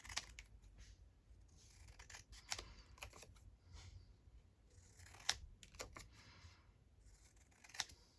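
Scissors cutting paper for crafting ephemera, a series of quiet snips and paper rustles at an uneven pace, close but faint, no talking.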